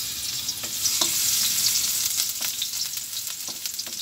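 Garlic frying in a pan gives a steady, close hiss of sizzling with small crackles and a few faint stirring taps, continuous throughout with no voices.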